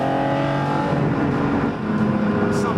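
A McLaren sports car pulls hard in a sustained rising engine drone, steady and fairly loud from inside the cabin, with a voice speaking over it.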